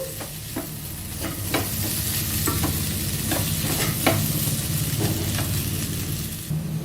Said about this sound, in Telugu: ఇప్పుడు ఒకసారి ఇలా కలుపుకుందాము